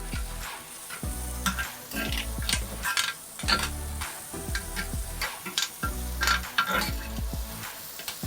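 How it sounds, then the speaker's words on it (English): Mushrooms seasoned with salt and pepper sizzle steadily in a hot pan, with a constant loud fry and repeated rhythmic stirring scrapes close by and no talk over it. "We just wanna make sure our mushrooms are pretty cooked."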